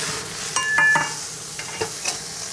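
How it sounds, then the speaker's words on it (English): A burger patty gets flipped on a charcoal grill, with a spatula scraping and clinking against the grate over a soft steady sizzle. A few sharp metallic taps sound close by, and no one speaks. "So we'll flip the burger,"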